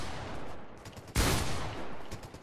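Gunfire in the video game Fortnite, a muffled rattling volley followed by one loud, sharp close shot and more distant scattered fire.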